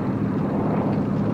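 Steady broadband roar of a propeller airplane cruising at high speed, a continuous droning hum heard from inside with no break and no voices.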